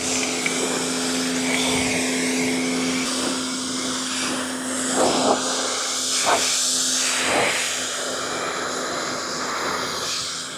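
A pressure washer gives a car its first rinse during a detail, a steady loud hissing spray running throughout with brief swells and bursts as the nozzle moves.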